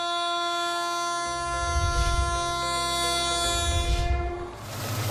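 Indian railway train running, its horn sounding a long sustained blare throughout while heavy rumbling of wheels and cars rises beneath it, loud and close.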